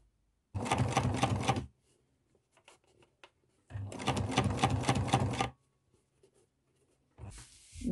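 Sewing machine topstitching layers of pressed fabric with a 2 mm rib topstitch on a lined zippered pocket, in two steady bursts of rapid stitching of about a second each, separated by a pause, with a short restart at the end.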